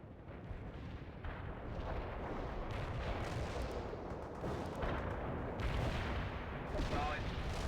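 Artillery barrage in the World in Conflict war game, a dense, continuous roar of booming blasts and rumbling impacts with layered surges, loud and close throughout.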